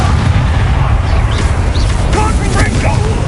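Fire spell bursts in the video game Hogwarts Legacy, a dense rumbling blast with crackling flares, loud and continuous over a low roar, with speech running over it.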